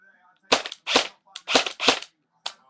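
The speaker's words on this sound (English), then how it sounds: "And here's full auto." Dboys SCAR airsoft rifle fitted with a Matrix Tornado speed gearbox and Matrix 3000 motor, run on a 9.6 V battery, rips off five short full-auto bursts, sharp buzzing rattles close up separated by brief pauses.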